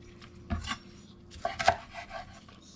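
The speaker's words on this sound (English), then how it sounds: "This is just a couple of spring onion tops and a couple of bay leaves. Everything is washed already. Just wrap them together and slice them down as one." A knife slices through bundled spring onion tops and bay leaves on a board, giving a few quiet, crisp chops, one near the start and a tighter cluster a second later.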